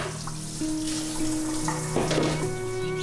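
Water runs steadily from a kitchen tap into a sink as a vinegar-sprayed cutting board and knives are rinsed, a continuous close splashing rush with faint clinks and a tonal hum beneath.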